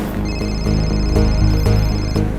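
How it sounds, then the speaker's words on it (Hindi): A phone ringtone plays a loud, looping electronic melody with a steady rhythmic beat. "घंटी की आवाज शायद ऊपर से आ रही है।"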